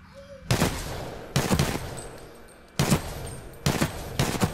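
Weapon fire in the Titanfall 2 training course: four loud bursts of rapid gunfire, each roughly a second long, separated by short pauses, close and sharp over a faint game background.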